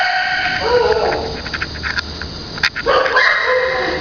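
Young dogs bark and yip several times in short bursts, fairly close, with a noisy room in the background.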